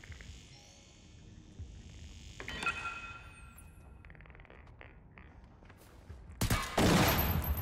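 Gunfire in the video game Generation Zero at a military base: a loud, dense burst of shots crashes in near the end, following quieter in-game ambience and footsteps.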